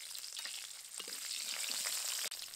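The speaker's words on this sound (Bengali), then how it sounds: "আমের টুকরোগুলো একটু ভেজে নিয়েছি," Strips of green mango frying in hot oil with nigella seeds, a continuous close sizzle with soft crackles throughout.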